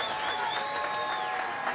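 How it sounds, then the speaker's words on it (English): A boxing arena crowd applauds the fighters after a bout, a dense continuous wash of clapping and crowd noise with a faint tone running through it. "can we have a round of applause for these 2 warriors?"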